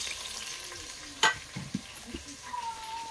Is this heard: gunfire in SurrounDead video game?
no